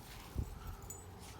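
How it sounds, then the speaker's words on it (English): A dog gives a faint, brief whimpering yelp near the start, low and muffled against a quiet outdoor background, as if eager to play. "This dog wanna play."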